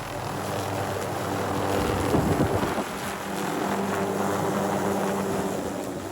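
A Hughes 500 helicopter runs close by at a runway, with a steady, loud engine and rotor roar that swells briefly near the middle and never lets up, and no voices.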